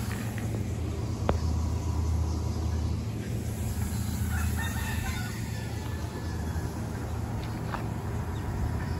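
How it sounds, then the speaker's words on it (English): Chickens and a rooster in the Virgin Islands crow and cluck outdoors at a moderate distance over steady background noise, with faint traffic now and then. "We noted a lot of chicken running around."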